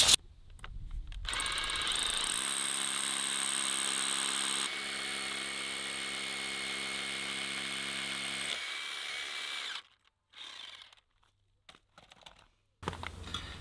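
A power drill bores into concrete for anchor bolts, running loudly and steadily for several seconds with a grinding whine, then stops, followed by a few short bursts and quiet gaps.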